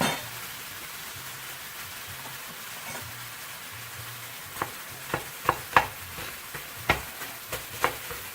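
Meat for a dog kibble topper frying in a pan, a soft continuous sizzle with several sharp pops and spatters toward the end, close and fairly quiet.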